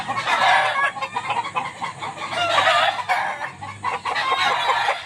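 Chickens and chicks cluck continuously nearby on a farm with fighting cocks, in loud overlapping bursts of clucking and peeping.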